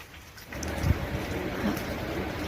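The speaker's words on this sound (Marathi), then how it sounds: "खूप जोरात छान पाऊस पडलेला आहे इकडे" Heavy monsoon rain of early June pours down outdoors in a steady, dense hiss that fills the whole stretch, with no pauses and nothing else standing out above it.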